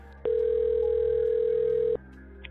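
A steady telephone dial tone sounds alone for about a second and a half before a recorded phone call, a constant flat pitched hum that starts and stops abruptly over faint room noise.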